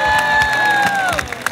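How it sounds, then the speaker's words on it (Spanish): A TV game show studio audience cheers and applauds, with a loud crowd roar, shouting and claps, over which a sustained musical or electronic tone slides downward. "Démosle un fuerte aplauso para Edgar Ortega y Los Angelitos de Edgar."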